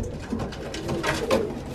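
Pigeons cooing during mating, a mated pair with an attentive cock bird, giving soft repeated low coos with a few brighter chirps over about two seconds, close by and without talk.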